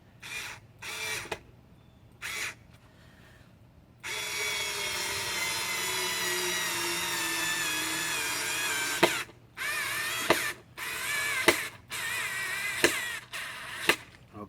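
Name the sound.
SKIL 4V rechargeable screwdriver driving screw into board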